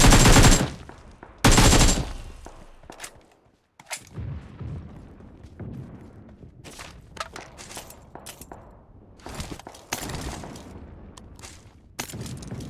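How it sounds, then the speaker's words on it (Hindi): Gunfire in a video game, a couple of loud close bursts at the start followed by scattered shots, bangs and footsteps, with rapid volleys returning near the end. "फिर मुझे सामने से फायरिंग का साउंड आता है"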